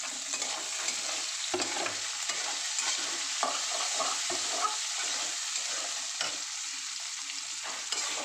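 Grated coconut, soaked and peeled peanuts and vegetables fry in a pan, giving a steady bright hiss with light stirring scrapes. The sizzle is continuous at moderate level with no voice over it.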